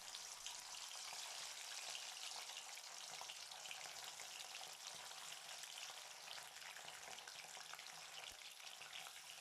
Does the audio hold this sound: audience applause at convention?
no